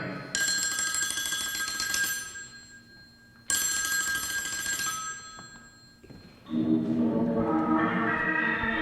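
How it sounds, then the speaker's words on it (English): An old-fashioned telephone bell rings in two long bursts with a pause between, bright and insistent indoors, followed by a different softer ringing tone near the end. "Now don't touch that phone. But... Let it ring."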